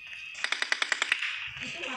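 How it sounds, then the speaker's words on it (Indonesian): Rapid automatic gunfire in an online video game, a quick burst of about eight evenly spaced sharp shots lasting under a second, fairly loud against a steady background hum. "Kok ada suara pistol aja ya?"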